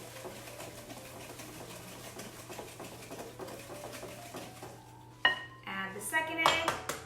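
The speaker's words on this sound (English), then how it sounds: "whisk the egg in." An egg whisked into olive oil chocolate chip cookie dough, a rapid steady metallic clicking of a whisk against a bowl, faint at first, then louder clanks toward the end.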